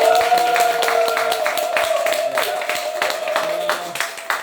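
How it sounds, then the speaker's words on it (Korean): Scattered handclaps from an audience at a church lecture on Christian worldview, sharp and irregular, ringing out over a steady tonal hum and a voice. "이건 뭐 이렇게 박수쳐서 너무 감사하고요"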